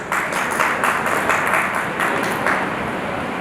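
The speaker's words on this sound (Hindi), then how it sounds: "जोरदार तालियों से अभिनंदन।" A hall audience at a public function claps in a steady burst of applause, moderately loud and fairly even, with rhythmic pulses in the clapping and no clear talk over it.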